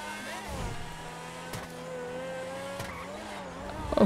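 A car in GTA 5 drives and maneuvers to park, its engine humming with shifting revs and a brief tire squeal, steady and close, with a few thuds around it.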